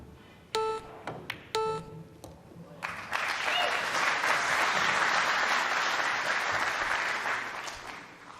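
Applause from the crowd at the 2023 European Open Pool Championship, last-16 match between Joshua Filler and Mieszko Fortunski, rising after a few electronic beeps into a steady, full burst of clapping that holds for several seconds.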